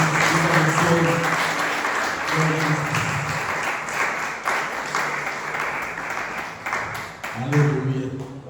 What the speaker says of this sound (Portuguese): Aplauda o Senhor mais forte que você puder.